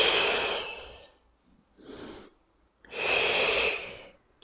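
Forceful breaths during a workout exercise, two long loud exhales with a softer inhale between, close and alone, with no talk.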